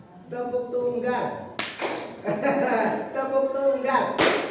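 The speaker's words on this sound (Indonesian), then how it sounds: "Tepuk tunggal, tepuk ganda, tepuk tangan." A group of people clapping in single and then double hand claps during an energizing classroom or workshop exercise, sharp bursts of claps following a leader's spoken calls, with talking heard between the clap rounds.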